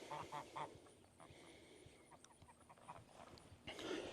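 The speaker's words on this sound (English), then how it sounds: "Geese, I already know." Geese honk near a chicken tractor on a farm, a few loud calls at the start and end with softer squawks and rustling in between.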